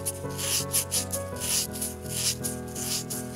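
Paper sandpaper, torn into a small piece and held by hand, rubs around the inside of a miniature bowl in steady back-and-forth strokes. The scratchy rubbing is close and continuous over faint background music.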